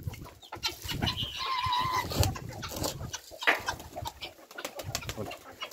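Domestic hens in a farmyard cluck and call intermittently at close to moderate range, with irregular bursts of clucking and a few higher cries over a soft outdoor background.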